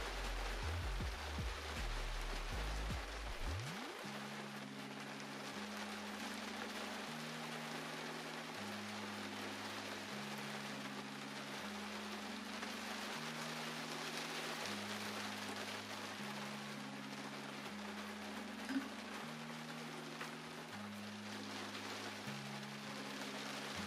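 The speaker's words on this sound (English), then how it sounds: "the camera did actually pick up the sound of the rain on the roof of my studio" Heavy rain drums steadily on the roof of a garden studio shed, a constant wash of patter that continues while soft, slow piano-like tones play low underneath.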